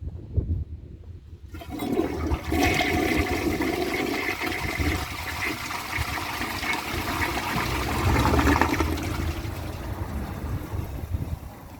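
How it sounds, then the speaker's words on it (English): A 1952 Briggs Prince toilet, its tank recently cleaned of dirt, flushes with a loud, steady rush and gurgle of water that begins after a quiet moment and roars on without pause. "Let's give it a flush."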